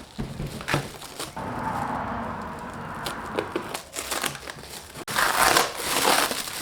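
Plastic packaging crinkles and rustles around Dobinson's front suspension coils for a 5th-gen Toyota 4Runner, close handling noises with crackles and tearing, loud in bursts.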